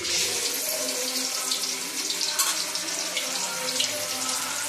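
Fish frying in a pan of hot oil in a home kitchen gives a steady, close hiss of sizzling with crackling bursts throughout, and no one speaks.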